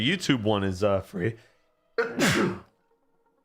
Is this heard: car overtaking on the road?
no